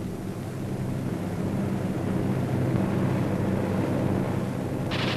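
B-24 Liberator bomber formation droning at high altitude, a continuous, even rumble of multiple piston engines filling the sound with broadband roar, steady throughout.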